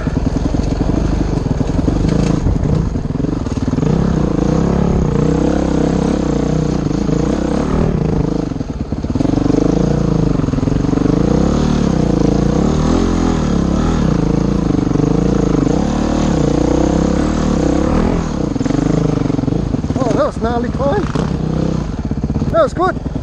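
A motorcycle climbs a hill in second gear on Mt Kembla, its engine loud and close, rising and falling as the clutch is worked, and the throttle surges unevenly throughout.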